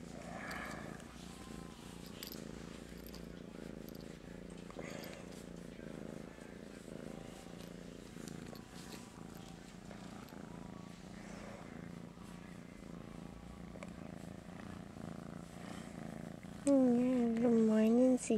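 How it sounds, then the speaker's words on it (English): A steady low purr runs continuously under a person talking softly, with a brief meow-like rise near the end. "listen to that purr"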